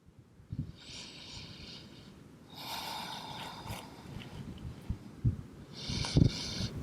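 Audible breaths during a hip-focused yoga stretch, soft snort-like inhales and exhales rising and falling close up, with a few sharper bursts toward the end and no talking.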